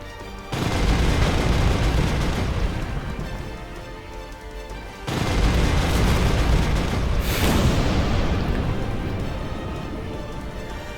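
A kinetic weapons barrage fires in the space strategy game Sunrider Liberation Day, heard as two long, loud rumbling volleys of booming blasts, the second starting midway and slowly fading out.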